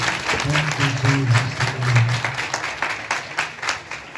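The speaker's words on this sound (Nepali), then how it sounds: "आगे बजाएर प्रभुलाई धन्यवाद दिनु" A church congregation claps in thanks to the Lord, producing a steady run of close, dense handclaps throughout, with a voice speaking briefly under the applause near the start.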